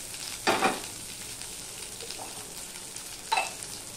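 Carrots, potatoes and beans frying in oil in a pan, a steady low sizzle with two brief louder bursts of crackling as the vegetables are stirred, close and without talk.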